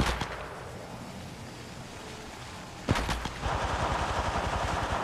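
Rapid automatic gunfire erupts in Apex Legends Mobile, first a few scattered shots, then a sharp burst followed by a sustained, evenly spaced stream of loud shots.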